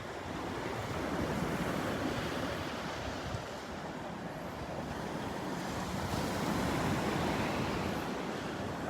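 Surf and a light breeze at Delnor-Wiggins Pass State Park beach in North Naples, Florida: a steady, soft wash of waves mixed with wind noise, no voices.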